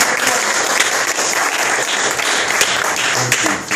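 An audience at a church sermon breaks into loud, sustained applause, dense clapping from many hands filling the whole stretch without a pause.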